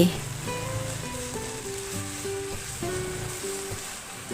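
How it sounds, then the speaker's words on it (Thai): Minced pork stir-frying in a pan gives a steady, hissing sizzle that runs continuously under soft melodic music. "แล้วก็พัดจนกว่าหมูจะสุกดี"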